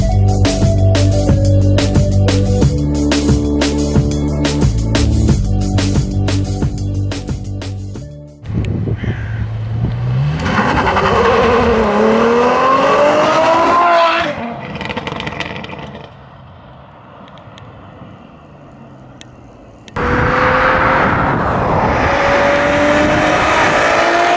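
A Ferrari F12 V12 on its stock exhaust makes loud drive-bys, with revving engine notes rising and falling as it passes, loud throughout, preceded by a stretch of rhythmic music-like tones.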